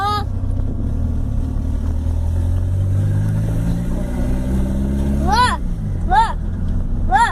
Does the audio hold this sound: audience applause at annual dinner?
no